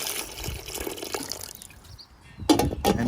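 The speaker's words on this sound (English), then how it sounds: "little bit more water" Water poured into a cooking pot of lobster seasoned with coriander and sea salt, a steady splashing trickle that swells into louder gushing bursts near the end.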